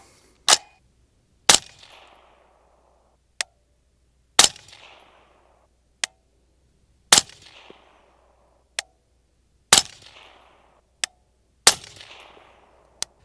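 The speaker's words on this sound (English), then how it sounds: "So 5 shots, 62 grain IMI green tip." Five rifle shots of 62-grain IMI green tip fired from a 12.5-inch LMT SpecWar on an outdoor range, sharp loud cracks spaced a couple of seconds apart, each with a short rumbling echo, alongside fainter distant reports from other shooters.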